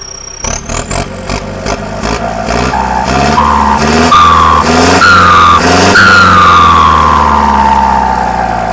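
A loud MU49 engine on a farm vehicle used for rice-field tilling revs up in repeated rising bursts, its roar climbing in pitch with each throttle push, close and alone.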